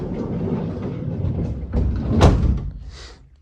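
A VW T4 van's sliding door with repaired step and rebuilt runners rolls along its track and shuts with a single solid thud near the end, close by and fairly loud.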